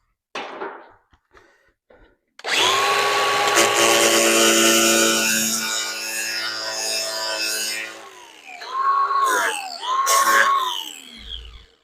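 A power tool trims a custom LS engine cover for a 1940 custom car, whining loudly and steadily at close range for several seconds, then dipping and rising in short bursts as the cut proceeds.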